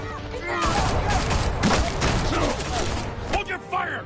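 Gunfire erupts in the Batman Telltale game as a dense, loud volley of rapid shots with mechanical clatter and ringing metallic echoes, over a few seconds with shouting mixed in.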